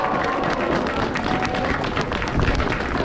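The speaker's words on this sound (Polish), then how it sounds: "Jeszcze raz brawa dla nich, kochani." Outdoor crowd at the Three Kings procession in Sosnowiec applauding the actors and singers of the nativity play, loud continuous clapping with sharp individual claps standing out, sustained throughout.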